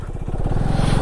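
Motorcycle riding on a road during a solo long-distance trip from Delhi to Darjeeling, a loud, close, steady engine drone with a rapid pulsing throb and rushing wind noise.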